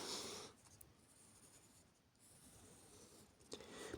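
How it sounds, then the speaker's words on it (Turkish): A pen scratches across paper while working a rational-numbers math problem, a close, continuous scribbling rasp with brief pauses between strokes, alone without talk. "Bir kalemle yazayım."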